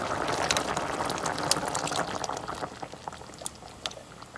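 Milk boiling up in a pot on the stove, close bubbling and gurgling that starts busy and eases into sparser pops, without talk.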